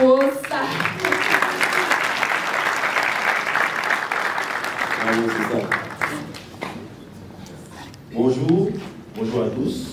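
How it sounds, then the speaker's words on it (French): Conference audience at a developer event applauding loudly for several seconds, the dense clapping dying down around the middle, followed by someone speaking near the end. "Veuillez applaudir"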